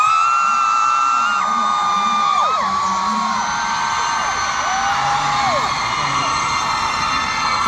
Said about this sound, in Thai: ขอเสียงกรี๊ดทุกคนได้ไหมครับ